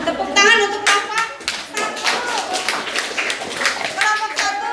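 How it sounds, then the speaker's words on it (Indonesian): Students in a seventh-grade classroom clap for a group after its presentation, a dense burst of applause from many hands with children's voices mixed in. "Tepuk tangan untuk kelompok"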